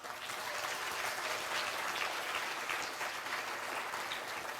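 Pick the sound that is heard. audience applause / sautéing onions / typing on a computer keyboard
audience applause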